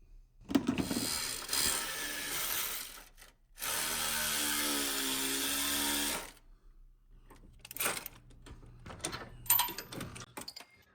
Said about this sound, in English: Let's put a socket on it, and it'll come right out.